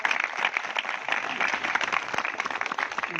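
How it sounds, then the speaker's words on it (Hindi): Audience applause at a political rally in Uttar Pradesh, greeting Raghunath Prajapati of Azamgarh: steady dense clapping from a large crowd, sustained and even throughout. "जोरदार ताली बजा के स्वागत करिए रघुनाथ जी का"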